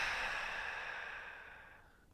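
A single deep, slow exhaled breath during a yoga session, a soft breathy sigh that fades out over about two seconds, close and quiet with no talking.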